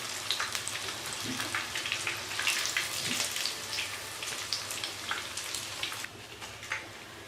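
Fish nuggets frying in oil over a low flame, a soft, steady crackle and patter like light rain, with faint occasional pops and no talking.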